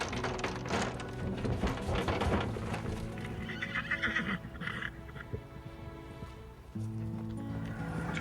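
Horse and foal neigh repeatedly outdoors, with loud whinnies and snorting near the mic alongside scattered hoof clops and some background voices.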